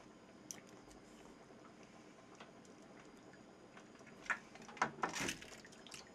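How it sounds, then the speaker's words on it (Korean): Wet, close-up chewing of live baby octopus and pork-bone stew, quiet at first, then a cluster of louder crunchy, squishy bites toward the end. "씹는 소리 좀 자세히 들려드릴까요, 여러분들?"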